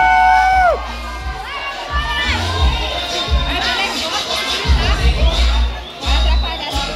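Spectators at a CrossFit tournament shout and cheer loudly, with high excited voices rising and overlapping in bursts. A busy crowd babble continues underneath.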